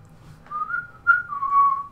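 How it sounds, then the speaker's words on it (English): A person whistles a short, faint, wavering tune in two or three phrases over a quiet background. "Stop whistling."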